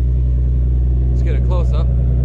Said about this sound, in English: Nice to hear the sound of this exhaust again.